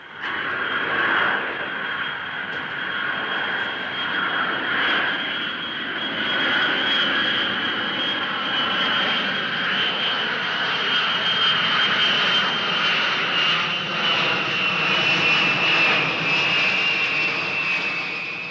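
A Boeing 747 jet airliner roars overhead with a steady high whine over a deep rumble, loud and sustained throughout.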